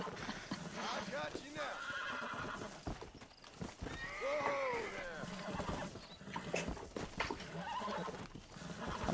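A horse in the video game Red Dead Redemption whinnies and snorts amid clip-clopping hooves and other game sounds, fairly close, while someone talks over much of it.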